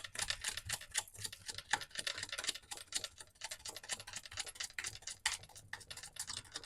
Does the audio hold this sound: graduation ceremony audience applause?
no